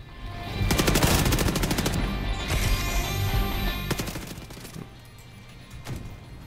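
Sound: gunfire in the video game The Division 2

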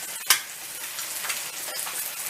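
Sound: salami and eggs frying in pan

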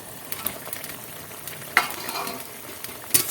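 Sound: stirring fried bhola fish into ol stalk curry

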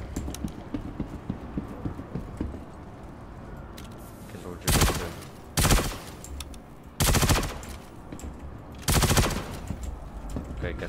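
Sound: gunfire from weapon in video game Star Citizen

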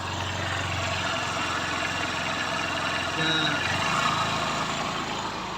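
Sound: motorcycle engine revving hard in deep flood water

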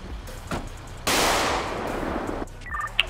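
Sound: gunshots fired at the player, likely in a video game

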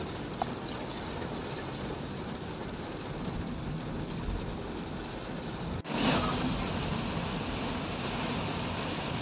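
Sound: heavy rain

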